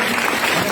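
An audience claps together for an honoured guest in a short, dense burst of steady applause that fills the room.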